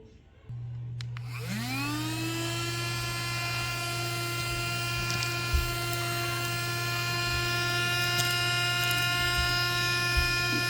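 An IonVac vacuum cleaner switches on and runs on its low setting over carpet, a loud steady motor whine with a constant low hum that settles after a rising start and continues unbroken, with occasional faint knocks as it moves.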